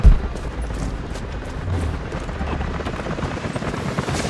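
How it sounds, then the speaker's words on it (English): Helicopters approach in the video game Rise of the Tomb Raider, a loud, continuous rotor thrum that holds steady after a sharp opening thump, with no talking over it. "helicopters are headed your way"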